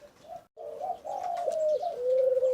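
A reddish-colored large spotted dove, a bird kept for its five-note coo, gives a close, clear series of soft, throaty coos with a brief pause near the start, alone with no voices.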